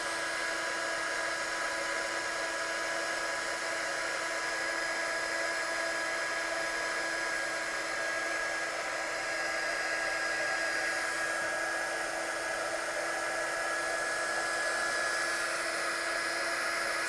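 Handheld dryer blowing over wet watercolour paint, a steady high-pitched whine and rushing air held unbroken throughout, close and loud, with no talking.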